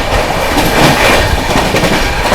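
The Shiv Ganga Superfast Express overtakes the Marudhar Express, giving a loud, close rushing rumble with rapid rhythmic clatter of wheels over rail joints in a brief continuous burst.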